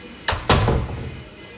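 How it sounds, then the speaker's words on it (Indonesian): Door in a house opening onto the kitchen, two quick sharp knocks or thunks of the latch and frame followed by a short low rumble, close and fairly loud, no talking. "Terus kalau kita buka pintu"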